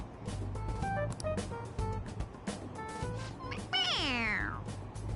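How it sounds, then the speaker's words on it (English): In Persona 5 Royal, a stuffed toy cat gives a single bright meow when its head is pressed. The meow swoops down in pitch and is heard clearly over the game's background music and tapping sounds. "It meows when you press on its head."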